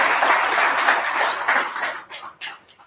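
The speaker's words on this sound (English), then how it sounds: "Why are people clapping?" Applause from a crowd in a lounge bar, a dense patter of many hands that holds steady, then thins into scattered individual claps before fading, with some voices mixed in.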